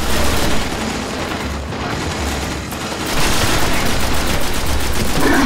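Dense, continuous automatic gunfire from the video game Destiny, loud and sustained with a brief slight dip in the middle before it surges again, no talk.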